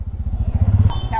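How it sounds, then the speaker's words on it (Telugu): A motorcycle carrying two riders runs along a road, its engine throbbing in a close, rapid, even pulse for a brief moment. "నేను మా నాన్న కలిసి బైక్ మీద వెళ్ళిపోతున్నాం."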